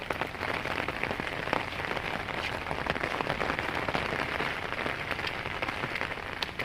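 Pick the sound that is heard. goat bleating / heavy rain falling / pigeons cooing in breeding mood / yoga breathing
heavy rain falling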